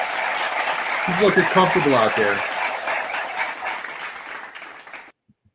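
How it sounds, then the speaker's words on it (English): A crowd claps for a player at a Yankees–Tigers baseball game, broad steady applause heard alongside a nearby voice talking over it, then cutting off abruptly near the end. "We got to give a round of applause for Jason Dominguez."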